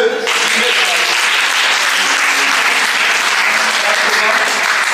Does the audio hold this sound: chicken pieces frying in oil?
no